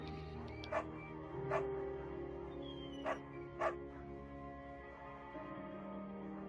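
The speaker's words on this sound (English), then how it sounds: "I'm gonna pick the beagle" A beagle barks in the video game Firewatch, several short, muffled yips spaced a second or so apart, set back under a steady droning musical score.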